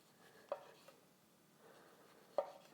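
A kitchen knife slicing through a peeled orange, two quiet separate cuts each ending with a soft tap on the board, faint and close in an otherwise hushed room.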